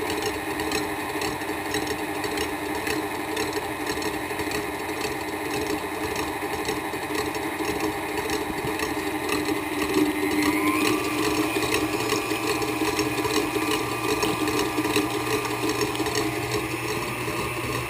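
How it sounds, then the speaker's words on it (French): An electric mixer beats egg whites with a pinch of salt, giving a steady, loud mechanical whir with a constant motor hum throughout and a slight shift in pitch partway through. "Je commence à battre les blancs d'œufs avec une pincée de sel."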